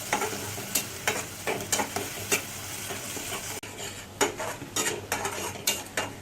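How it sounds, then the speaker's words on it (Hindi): Ginger-garlic paste with onion frying in oil in a pan for Punjabi-style chole, a steady sizzle broken by repeated scraping stir strokes of a spoon, close and clear with no talking. "और लहसुन वाला पेस्ट डाल देंगे, अदरक वाला। इसको हम अच्छे से फ्राई करेंगे।"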